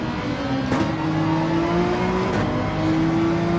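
A Ferrari 458 in Gran Turismo 7 races on track, its engine a steady loud high-pitched whine rising slowly in pitch, with two brief gear-change dips, close and continuous without talk.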